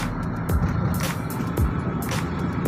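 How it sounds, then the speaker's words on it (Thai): Engine of a Toyota Vigo Champ with a Diamond Tech piezo common-rail diesel, fault causing sluggish revs, heard on a test drive: a steady low rumble with revs rising slowly, some periodic thumps, no talk. "นี่นะครับรอบไต่ขึ้นไปนะครับ มันรอบมันจะค่อย ๆขึ้นไปเรื่อยๆนะครับ"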